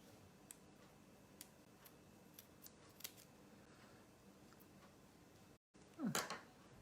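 Scissors snip white felt in a quiet room, a few faint scattered clicks followed by a louder, close cutting crunch near the end.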